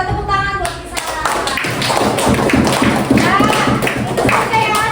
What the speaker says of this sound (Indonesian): tepuk tangan buat si Sarah.